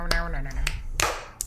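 Podcast hosts doing their intro clap: a few sharp, quick snaps or claps spaced unevenly over about a second and a half, close and dry, with a voice briefly under them.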